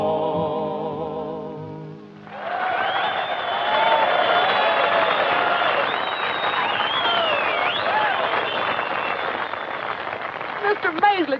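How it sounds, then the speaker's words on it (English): A large audience cheers and applauds loudly at a rodeo show, a dense continuous roar with shouts rising over it, after a brief stretch of music at the start. "Mr. Maisley, did you hear that crowd cheering"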